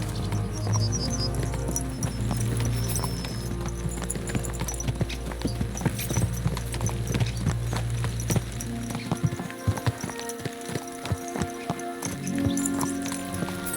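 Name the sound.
horse hooves clip-clop in video game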